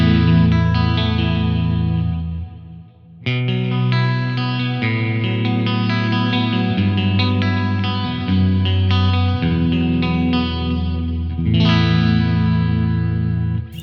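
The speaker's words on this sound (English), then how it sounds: "And let's add some chorus too." Clean electric guitar through the JST Toneforge Disruptor plugin, with chorus added to the delay and reverb, plays a flowing sequence of shimmering sustained chords. A brief dip in the middle separates two strummed phrases, and no voices are heard.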